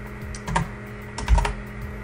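A few close, crisp clicks of typing on a computer keyboard, two small clusters of keystrokes against a quiet hum.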